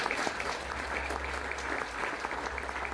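A church congregation applauds during a sermon, a steady, fairly faint wash of clapping held under a low hum for the few seconds, with no voice over it.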